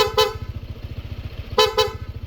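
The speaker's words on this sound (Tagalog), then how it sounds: "PIAA dual horn setup. May rapid horn tsaka combo lights." A PIAA dual horn fitted to a Honda ADV160 scooter gives one short blast, then two quick blasts a moment later, loud and close over the scooter's steady throbbing idle.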